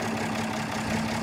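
Farmall 806 tractor engine idling steadily at close range, a loud, even low rumble with slight knocking texture, no voices.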